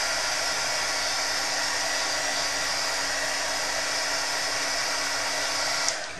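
Handheld dryer blowing on alcohol ink laid through a stencil, a loud, steady whooshing roar held close and continuous for about six seconds before cutting off.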